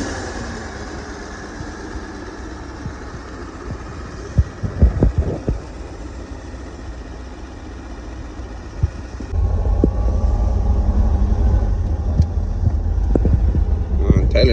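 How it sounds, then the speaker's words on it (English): A 1937 Ford Deluxe flathead engine idles with a low, even throb, then grows louder and fuller partway through. Scattered thumps and handling noises cut in, and people talk around it. "flathead runs like a sewing machine"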